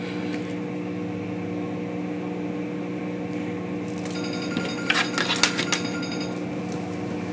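A mobile phone rings with a steady electronic tone, sounding throughout at moderate level. Brighter, choppy chiming bursts come in toward the latter half. No one speaks.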